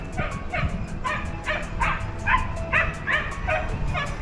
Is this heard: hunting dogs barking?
yes